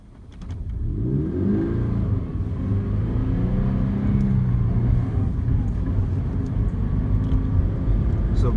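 A manual-transmission car pulls away in second gear as a learner releases the clutch, the engine droning and rising in pitch, close and loud, with faint voices underneath.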